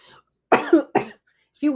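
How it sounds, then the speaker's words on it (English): A few short, harsh coughs come close together, sharp bursts separated by brief silences. "Have to cough."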